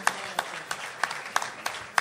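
Sparse, scattered clapping from a small audience, individual claps standing out in an irregular rhythm over a low murmur.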